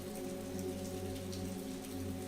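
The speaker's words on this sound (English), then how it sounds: "The sound of rain falling on water filled the air" Steady, even rain falling on water with a soft hiss and low hum, constant and unbroken, no voices.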